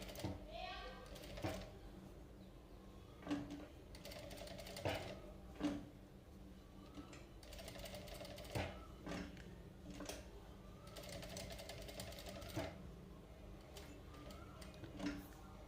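A sewing machine stitches piping cloth for a cutwork design in short, slow runs, its faint rhythmic ticking and whirring starting and stopping repeatedly in a quiet room.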